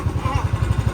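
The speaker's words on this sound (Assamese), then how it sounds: "বাইকখন পাৰ্ক কৰি আছে" A motorcycle putters in the lot of a roadside dhaba as it is parked, its engine beating in a close, loud, rapid even thump at idle for under a second.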